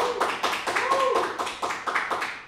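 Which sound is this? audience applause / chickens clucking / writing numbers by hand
audience applause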